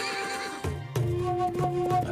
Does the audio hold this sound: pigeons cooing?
no